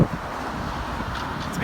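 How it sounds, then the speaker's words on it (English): Wind buffets the microphone outdoors in Harrogate, a steady rushing roar that carries through the whole moment, with faint traffic far in the background. "It is a little bit windy."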